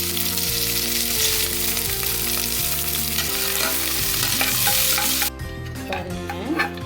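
Onions, including two large ground onions, fry with mustard seeds in a pan, giving a loud, dense, continuous sizzle with steady stirring scrapes, close by, under a faint steady musical hum, the sizzle turning briefly sharper toward the end.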